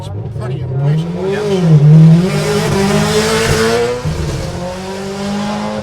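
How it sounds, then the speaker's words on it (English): A rally car with a sequential gearbox launches off the line at a forest rally sprint, its engine roaring loud and close as it rises through the revs, with a commentator's voice running over it. "Didn't that car look good? Off the line and sound good?"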